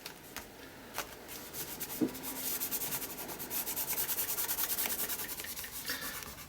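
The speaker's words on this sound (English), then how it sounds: "Just rub that down." Dry rubbing strokes across a layered mixed-media art surface built over printed music sheets, a steady scratchy abrasion that swells and fades over several seconds, close and fairly quiet with a faint tap partway through.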